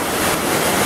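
Waterfall near the village of Amatlan in Morelos, Mexico, a loud, dense, steady rushing roar of falling water filling the brief moment alone.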